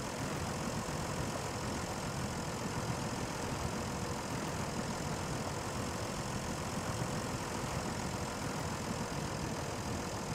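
A loaded Thar truck engine roars continuously in the SnowRunner video game, its tires spinning in deep mud while a tractor tows it, a dense steady rumble with no speech.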